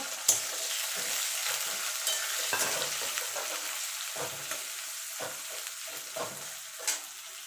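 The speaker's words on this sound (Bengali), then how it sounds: "পেঁয়াজটাকে একটুখানি মানে লাল লাল করে ভেজে নেব" Two medium chopped onions fry in a hot pan on a gas stove, a steady sizzle broken by repeated scraping stirs of a spatula at an uneven rhythm, close and fairly loud with no talk.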